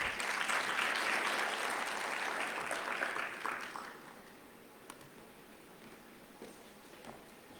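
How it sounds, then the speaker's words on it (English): Applause from an audience at an investment conference in Botswana, dense clapping that fades into sparse scattered claps over several seconds. "A round of applause,"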